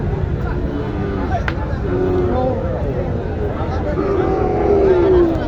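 Sahiwal cattle at a Joypurhat cattle market give several drawn-out moos over a busy background of crowd noise and people talking.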